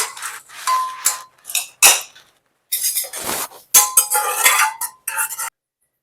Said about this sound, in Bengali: প্রেসার কুকারটা আমার ঠান্ডা হয়ে গেছে এরপর এটাকে আমি তুলে নিই